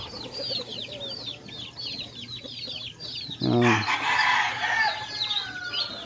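Chickens cluck and chirp steadily in a backyard pen where ducks and a turkey are also kept, while a rooster lets out one loud, close crow partway through, backed by a constant hum.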